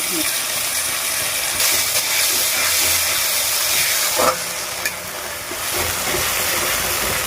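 Small splash of water into a hot pan while cooking Bengali pabda fish mustard curry, giving a steady loud hiss with a brief sharper burst midway, no talk.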